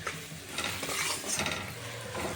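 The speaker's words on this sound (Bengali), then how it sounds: "এই যে এবার নেড়ে দেবো।" Fish pieces with a cumin mixture are stirred in a hot pan. Close scraping and stirring strokes sound over a steady sizzle, with no voices.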